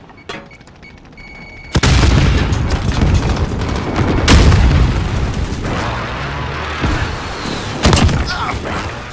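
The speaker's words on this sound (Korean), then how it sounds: "정밀 공습이다" Precision airstrike explosions in Call of Duty Modern Warfare: a sudden heavy blast followed by rolling booms and further detonations, loud and close, with battlefield rumble and brief game voice chatter.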